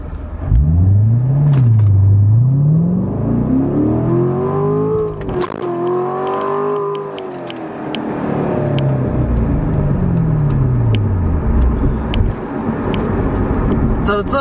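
A C7 Corvette Grand Sport launches hard from a standstill, engine note rising and falling through gear changes with tyres spinning in first, loud and close throughout with some talk over it.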